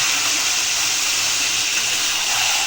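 A strong, steady rush of running water pours over fish being washed, loud, close and unbroken throughout, with no voices.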